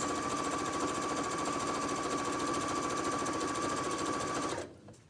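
Sewing machine stitching two layers of an apron in a straight line: a steady, loud, continuous mechanical whir with a rapid needle rhythm that runs for about four and a half seconds, then stops abruptly, leaving quiet.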